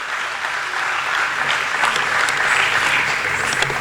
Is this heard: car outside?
no